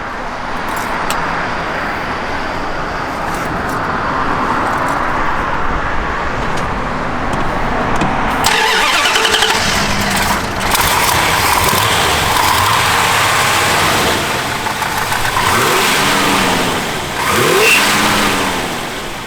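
A 1967 Plymouth Belvedere convertible runs loudly at close range, the engine revving and accelerating in repeated surges over steady road noise, with a belt squeak noted on this car.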